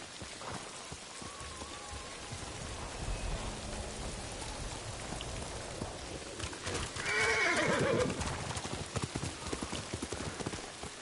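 In the video game Ghost of Tsushima, hooves clip-clop steadily over a soft patter of rain, and a horse whinnies loudly partway through before the hoofbeats carry on.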